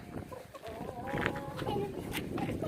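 A black hen clucks softly nearby in a park amid rustling and outdoor background noise, with faint bird-like calls rising over a busy low rumble.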